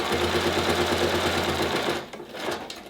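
A sewing machine stay-stitches a cloth face mask backwards and forwards, a loud close whir with a fast regular needle beat that drops off abruptly near the end.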